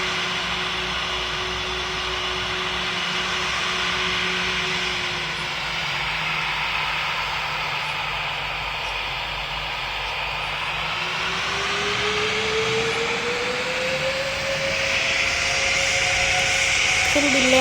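Airplane taking off in a flight simulator game, its engine a steady, loud, broadband roar with a slowly rising whine toward the end, sustained alone throughout.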